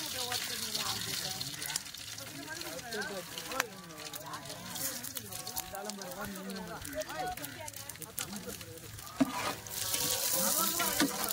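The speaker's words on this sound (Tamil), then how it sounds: "இதெல்லாம் பொன்னிறமா வர அளவுக்கு வதக்குங்க" Bay leaf, cinnamon and cloves sauté in hot oil in a pan with a steady crackling sizzle and stirring scrapes, while a person talks over the cooking.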